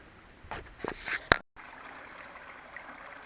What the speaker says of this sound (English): May have drought, but we still have a nice little running stream down through here